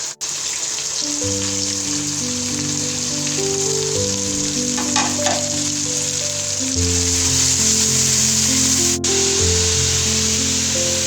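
Tomato frying with salt, crushed red chili, biryani masala and cumin for vegetable pulao, giving a loud continuous sizzle under steady background music, with no talking.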